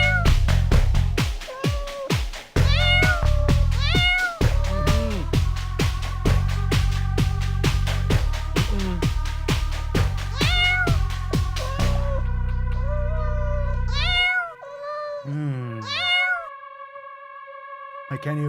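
A cat meows repeatedly, its calls rising and falling over steady music that fills the first twelve seconds, then continues more clearly with sparser, pitched cries near the end.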